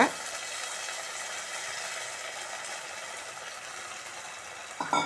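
Tamarind water hitting a hot pan of sautéed garlic and cowpeas for a tamarind kuzhambu, a steady close hiss and sizzle that holds throughout, with a brief clatter near the end.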